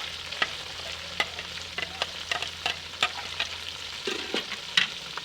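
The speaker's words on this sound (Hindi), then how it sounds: "अब हम मसाला रेडी करेंगे इसको अच्छी तरह से भून लेना है।" Masala of onion, tomato, chilli, garlic and ginger frying in a pan for chicken tinda, a steady soft sizzle with sharp scraping stirs repeating every half second or so, with no talk.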